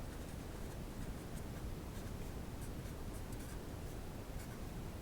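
Chalk or marker scratches across a board in short, quiet strokes, a faint dry rasp with little taps and squeaks over a soft room hiss.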